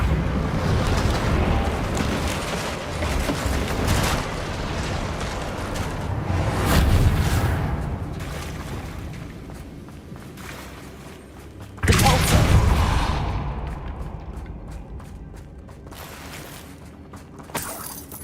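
A Reparo spell mends a broken bridge in Hogwarts Legacy, with swelling magical whooshes, grinding and creaking stone and timber, a sharp surge midway, then fading shimmering tones.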